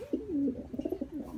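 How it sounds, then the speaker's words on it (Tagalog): Two pairs of pet pigeons coo in a single soft, close-up, throaty phrase with a rolling, pulsing rhythm, heard on its own. "bali 2 pairs na yung kalapati ko"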